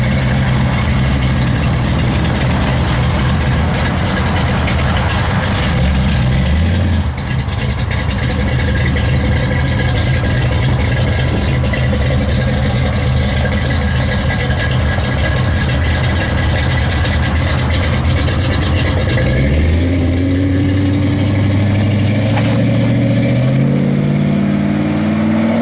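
A 1972 Chevrolet Chevelle SS V8 idles with a deep, loud, steady rumble, then revs up and settles in rising and falling sweeps near the end, heard alone and close.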